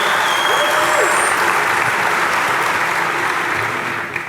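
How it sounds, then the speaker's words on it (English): A convocation audience breaks into loud, dense applause that fills the room close-up and holds steady before tapering slightly at the end. "Round of applause."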